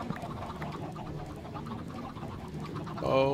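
Escaped chickens clucking in a video game, a soft steady chatter of birds with scattered clucks, moderately close, and no talk.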